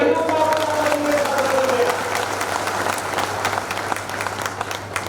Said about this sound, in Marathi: विजय साजरा करायचा आहे ना, जोरदार टाळ्या वाजवून